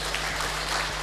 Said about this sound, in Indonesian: Mari tepuk tangan aja dulu